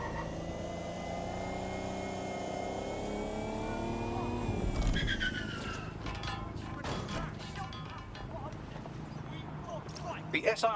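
A car cruising on auto drive in the game Watch Dogs Legion, with a steady engine hum and road noise, a shift in tone midway, then clatters and bumps near the end under game music.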